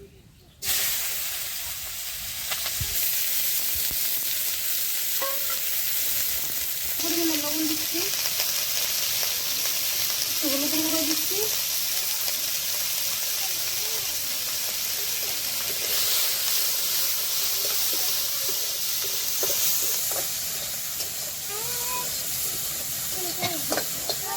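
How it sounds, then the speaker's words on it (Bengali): Sliced onion and green chilies, added after dried red chilies, frying in hot oil in a pan for a river retha fish recipe, a loud continuous hiss and sizzle throughout, with a voice speaking briefly over it. "দিয়ে দিচ্ছি পেঁয়াজ আর কাঁচা লঙ্কা"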